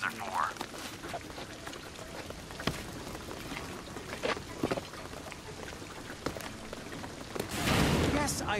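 Rain in Shadow of the Tomb Raider, a dense steady patter of drops on surfaces throughout, with occasional splashy bursts and a heavier rushing swell near the end.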